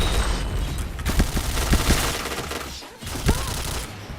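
Rapid rattling gunfire and impacts from a multiplayer shooter video game, dense bursts over a loud, busy game mix, with a player speaking briefly.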